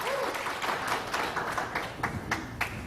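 Audience at a 2018 Connecticut gubernatorial debate between Bob Stefanowski and Ned Lamont applauds steadily for about three seconds, a dense clapping wash with a few sharper isolated claps near the end.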